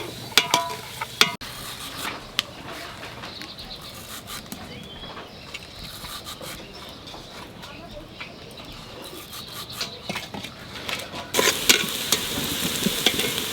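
Onions sizzle and fry in a pan for a mutton curry, giving a steady crackling hiss throughout, broken by occasional sharp scrapes and clinks of stirring, with a person talking over the cooking.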